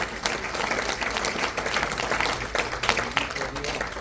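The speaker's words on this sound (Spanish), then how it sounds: "Si usted puede darle un fuerte aplauso a ese Padre celestial" A church congregation applauds during a Spanish-language sermon, a full, continuous burst of many people clapping that fills the space evenly throughout.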